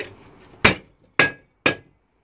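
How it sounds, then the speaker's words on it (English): A hammer knocks a dinner fork over in a vise with three sharp metallic strikes about half a second apart, each ringing briefly and then stopping dead, after a low murmur of handling. "with a hammer we knock it over"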